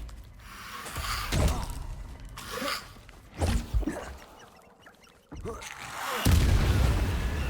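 A Confringo blasting spell from Hogwarts Legacy bursts in several booming explosions at irregular intervals, with a heavy blast near the end, mixed with combat sounds and short voiced exclamations.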